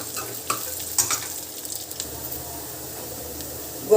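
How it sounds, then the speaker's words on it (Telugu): Onion, green chillies and curry leaves fry in hot oil with a steady, broad hiss, marked by occasional spits and light stirring clicks close by, with no talking. "ఉల్లిపాయ నాలుగు పచ్చిమిర్చి కరివేపాకు వేగనిద్దాం"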